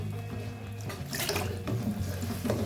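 About half a cup of water pours into chicken Manchurian gravy cooking over a slow flame, a steady close gushing splash with a brighter burst of sloshing partway through.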